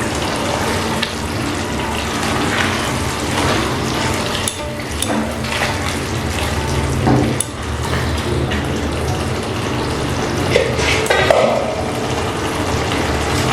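Banana blossom and prawns are stirred with ghee in a pan, a continuous wet sizzle with scraping and occasional clinks of the utensil against the pan, moderately loud and steady throughout.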